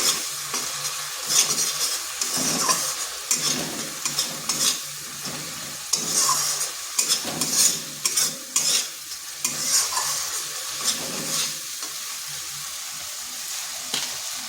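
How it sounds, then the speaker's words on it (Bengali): Cumin, coriander, turmeric and chilli powders sauté in a hot pan, a steady sizzle broken by repeated scraping strokes of a spoon stirring through the spices, close and fairly loud with no voices. "দিয়ে দিচ্ছি জিরে গুঁড়ো, ধনে গুঁড়ো, হলুদ গুঁড়ো আর লঙ্কার গুঁড়ো। এটাকে একটু কষিয়ে নিচ্ছি।"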